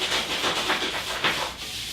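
Soft rhythmic rubbing strokes, a cloth wiping sanding dust back and forth across a surface several times, close by and fairly quiet.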